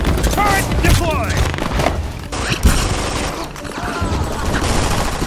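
A deployed turret in the shooter Brink fires sustained automatic bursts amid booms and mechanical clatter, loud and close, with a voice shouting over the gunfire.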